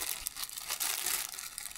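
A plastic bag and bubble wrap packaging are handled, giving a close, continuous crinkling and crackling with a few sharper crunches, and no talk.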